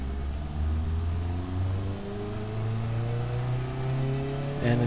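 A car engine with its variable valve timing disabled revs steadily and loudly up close, its rising harmonic drone holding a continuous tone that climbs and sharpens near the end.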